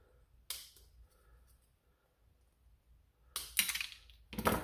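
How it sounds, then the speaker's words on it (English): Cutters snipping a small plastic part off an X-Shot Reflex toy blaster: a sharp close click, a quiet pause, then a couple more louder snaps and clicks near the end. "Snip that little part out."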